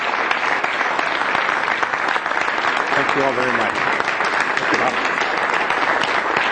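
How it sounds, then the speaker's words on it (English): Steady, loud applause from a large conference crowd fills the whole stretch while someone briefly speaks thanks over it. "join me in a round of applause"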